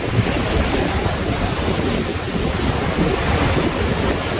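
Sea surf rolls steadily onto the beach at Pranburi, a continuous loud wash of breaking waves mixed with gusty wind buffeting the microphone, no voices present.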